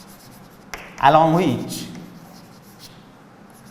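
Chalk or marker scratches across a classroom board during a physics lesson on light, with a teacher talking over the faint writing strokes.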